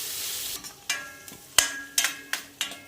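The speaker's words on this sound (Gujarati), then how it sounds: "ડુંગળી આપણી ફ્રાય થાય છે" Onions frying on a medium gas flame for dal palak khichdi give a soft hiss, broken by several sharp stirring taps of a spoon against the pan at irregular intervals.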